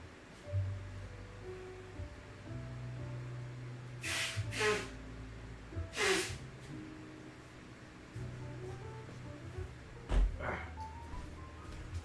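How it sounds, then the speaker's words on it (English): A few short, forceful nasal blows and snorts, close by, against a quiet background hum with faint music, and no talking. "Let me blow my nose."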